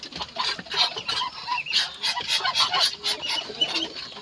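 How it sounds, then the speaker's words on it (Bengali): Chinese geese honking and clucking continuously at close range, a noisy overlapping chorus from a small flock kept alongside a local duck. "এই যে দেখুন এখানে 7টি হাঁস আছে, 6টি চীনা হাঁস এবং 1টি দেশি হাঁস।"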